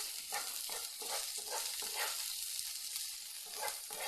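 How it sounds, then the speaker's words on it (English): Onions sizzle in an oiled pan, a soft, steady crackling fry with faint scraping as they are stirred, heard alone at low volume. "put the onions. These ones are going to cook for about"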